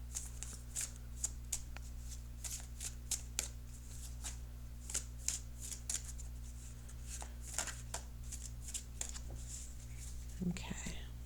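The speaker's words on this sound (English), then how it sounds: "Now I'm shuffling this outcome card for this outcome card." Tarot cards being shuffled by hand: a steady run of crisp, papery riffles and flicks close to the mic, repeating every half second or so over a constant low electrical hum.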